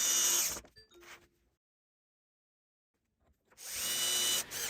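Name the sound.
power drill drilling into wooden rail platform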